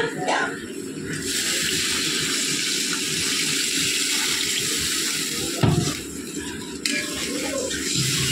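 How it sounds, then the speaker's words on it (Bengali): Water pours steadily into a cooking pot of fried spices in a home kitchen, a loud continuous gushing rush with a brief clatter partway through. "এবার আমি জল অ্যাড করব।"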